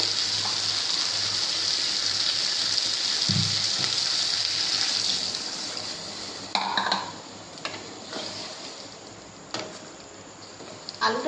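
A cup of water pours into a pan of simmering potato curry (aloo dum), making a steady hissing splash for about five seconds before fading into quieter bubbling and occasional utensil clinks.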